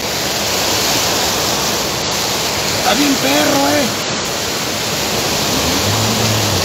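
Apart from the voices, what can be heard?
rushing flood water after heavy rains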